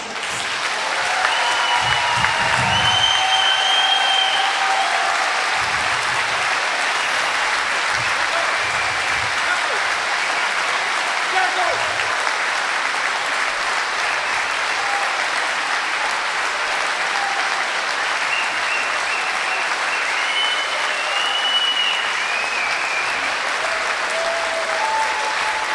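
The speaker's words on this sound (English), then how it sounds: "round of applause." A standing crowd at the Aalsmeer Flower Cup 2023 finals gives a long, sustained round of applause, steady and dense throughout, with occasional cheers and voices mixed into the clapping.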